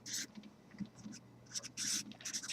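Pen or marker scratching out a sentence of a math proof by hand, close and dry, in short bursts of strokes with brief pauses between them.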